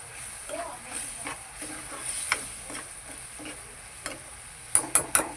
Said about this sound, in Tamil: நல்லா கொதிக்குது கருவாடை எடுத்து போட்டுட்டு காமிக்கிறேன்